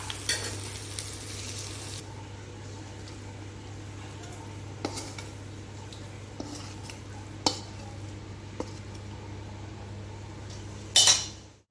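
Madurai egg mass frying in a pan, a quiet steady sizzle with occasional soft taps and scrapes of a spatula chopping it, ending in a louder metallic clatter.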